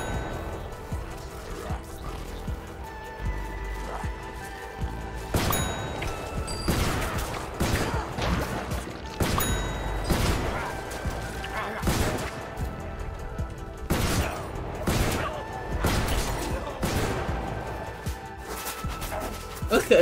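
Explosion-based attacks from a character in the Untitled Variants mod go off in a video game, several sharp bursts and rapid gunfire-like volleys clustered at intervals over a quieter background, without talk.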